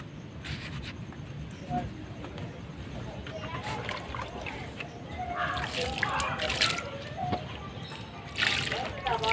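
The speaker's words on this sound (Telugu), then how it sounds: "ఇప్పుడు వాటర్ అయితే ఇచ్చేసుకుందామండి వీటికి" Water pours and sloshes into containers in uneven bursts, close by, with light splashing.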